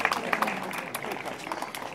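Light clapping from an audience at a historical pageant event in Santa Lucia del Mela, scattered and fairly faint, with a voice speaking over it.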